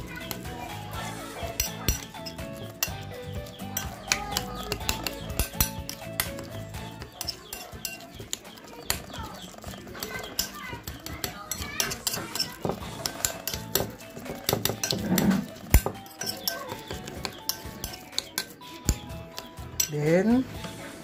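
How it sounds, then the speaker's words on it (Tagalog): A utensil mashes drained sardines in a bowl, with repeated scraping, clinking and tapping against the dish at close range, uneven in rhythm, and a brief voice speaking at moments. "yung sardinas ay kailangan nating durug-durugin ng pinong-pino"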